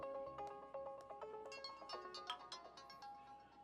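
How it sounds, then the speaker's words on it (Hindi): A melodic phone ringtone plays alone, a quick bright sequence of electronic tones, fairly close and steady. "फोन की घंटी बजने से ये आदमी इतना डर रहा है"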